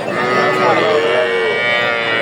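A single loud, close cow moo at a rural cattle market, a drawn-out low call lasting about two seconds over faint background noise.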